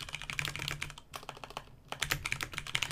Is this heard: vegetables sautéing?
no